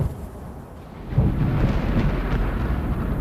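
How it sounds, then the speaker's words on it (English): A deep roll of thunder from an approaching storm starts low and rumbles louder about a second in, then sustains as a heavy, close, booming rumble with no voices. "storm's moving in quick"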